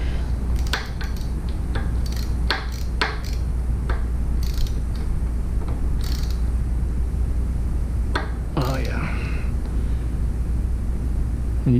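A wrench ratchets a flyscreen mounting bolt tight on a Triumph Trident 660 motorcycle, producing short scattered metallic clicks and ratcheting bursts over a steady low background hum.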